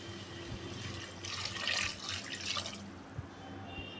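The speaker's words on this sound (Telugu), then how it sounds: "ఒక 2 కప్పులు వాటర్ పోసి" Two cups of water poured into a pot of chicken soup with ground black pepper and spices, a steady splashing stream running alone for several seconds, swelling louder midway, close and moderately loud.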